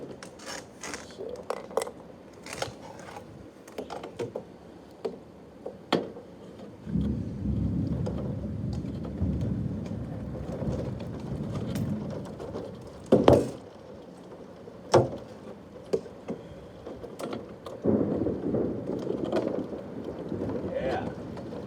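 A fast-arriving thunderstorm with rain falling steadily and low rumbling thunder swelling in long stretches, plus several sharp nearby cracks; occasional voices are heard.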